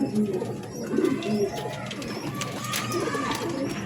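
A pigeon in a cage at a pigeon sale coos softly in low, rolling murmurs, close to the microphone against a faint background, with no speech.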